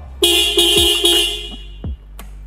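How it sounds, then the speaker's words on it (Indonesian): A motorcycle horn honks loudly in several short bursts, the toots close together, followed by a couple of brief clicks. "Klakson,"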